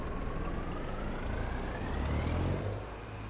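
A loud, rumbling Volvo VNL truck engine in American Truck Simulator with a raw, open exhaust pipe roar, revving steadily with a faint rising whine over about three seconds.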